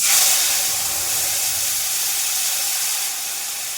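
Tomato paste made from a whole blended tomato sizzles in a frying pan with cumin seeds, a steady close hiss of frying that holds for several seconds and eases slightly near the end, with no talking.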